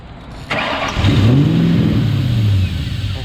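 A car engine cranks and catches after an intake manifold install, then revs up and holds a rising, loud, close roar for a couple of seconds before easing back.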